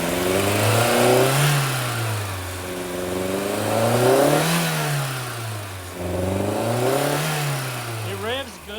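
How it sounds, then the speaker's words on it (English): A VW Fox engine with a fuel delivery fault revs up and down in repeated surges, rising and falling in pitch through three bogging swells, loud and close. "but if you rev it, it'll rev."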